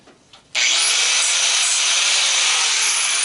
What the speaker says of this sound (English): I'll just hit it with the grinder.